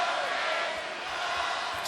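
A basketball arena crowd roars and chants in a steady, dense wash of voices, continuous and fairly loud throughout the brief moment.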